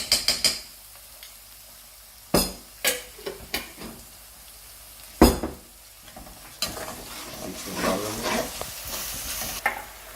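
Ginger garlic paste sizzles in hot oil in a karahi for a dhaba-style chicken dish. A spoon stirs it with several sharp scrapes and clinks against the pan, and the frying hiss rises and falls between strokes.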